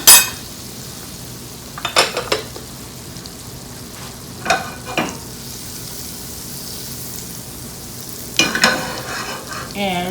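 Butter sizzling in a pan for a pav bhaji tempering, a low steady frying hiss broken by several close spoon scrapes and stirring clatters against the pan.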